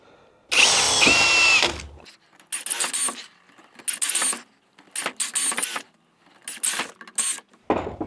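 ProCraft CD20B cordless drill in turbo mode drives 50 mm screws. A long, loud whirring burst is followed by several shorter, quick spurts of the motor at close range.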